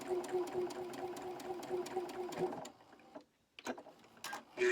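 A domestic sewing machine stitches a quarter-inch quilt seam in a steady rapid run of needle ticks for about two and a half seconds, then falls quiet apart from a few faint handling clicks and taps near the end.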